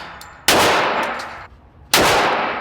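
Two sharp, loud gunshots ring out at a shooting range about a second and a half apart, each a sudden crack followed by a fading echoing tail.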